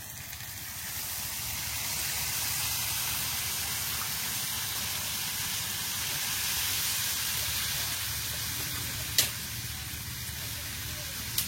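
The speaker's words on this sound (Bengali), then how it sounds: "এবার জল দিয়ে দেব।" Water is poured into a pan of simmering curry. It makes a steady, even hiss and sizzle that runs throughout at moderate volume, with a couple of brief sharp clicks near the end.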